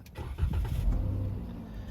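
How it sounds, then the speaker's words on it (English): A car engine idles steadily at low pitch, a continuous close rumble with a slight swell early on, in freezing cold weather. "it's too cold not to have my car running"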